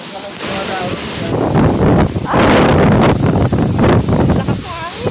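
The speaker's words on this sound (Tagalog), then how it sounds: "Lakas na hangin." Strong typhoon wind gusting and roaring in loud surges, rising and falling over several seconds with rustling leaves, and a voice talking intermittently beneath the gusts.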